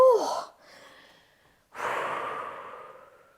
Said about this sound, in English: breathing in through the nose and breathing out